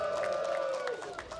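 A StarCraft II finals crowd at an EPIC.LAN esports event applauds and cheers for the Polish player Gerald, a steady, fairly loud wash of clapping and calls from a large room over a sustained tonal backdrop.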